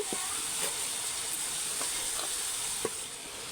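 Bottle gourd pieces frying in oil give a steady, close hiss for several seconds, with a few soft clicks and pops and no voices.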